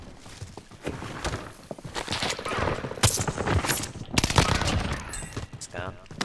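Gunfire rings out in Call of Duty: Modern Warfare, with sharp repeated shots and bursts spread across several seconds amid footsteps and movement thuds, under a player talking.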